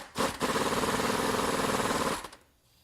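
Power tool tightening the harmonic balancer bolt on a 2005–2010 Mustang GT 4.6 V8: a loud, steady rattling whir running about two seconds after a brief initial burst, then cutting off.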